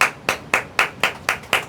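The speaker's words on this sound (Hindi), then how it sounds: "ताली मारो।" Students in a maths class clap in a steady, evenly spaced rhythm, six crisp, close hand claps with brief pauses between them and no talking.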